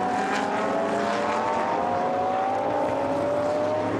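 A McLaren GT race car in a Blancpain Endurance race at Navarra, Spain, roars loudly and continuously close by, its engine note climbing steadily as it drives down the track.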